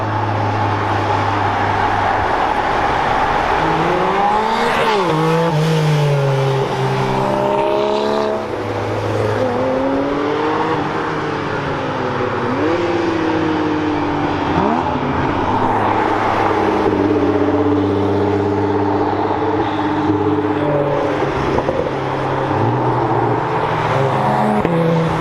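Supercars, including a Lamborghini Huracán Performante, a Porsche and an Aventador, accelerate hard on a mountain road near Chamrousse, engines climbing and dropping through gears in loud, sweeping bursts as cars pass close one after another.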